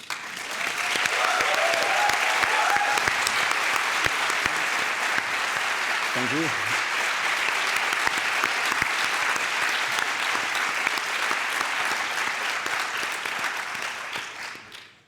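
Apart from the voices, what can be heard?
applause for the dean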